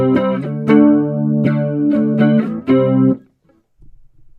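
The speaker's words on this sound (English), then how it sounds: "If we take this depth all the way up, you'll hear how distant that second tone is." An electric guitar through a modulation effect with the depth turned all the way up plays a few plucked notes and chords with a wavering doubled tone, then stops and rings out to near silence.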